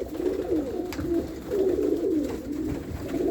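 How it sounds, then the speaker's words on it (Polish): A racing pigeon gives a continuous, rolling coo close up, its low warbling pulses running on without a break. "To jest gołąb."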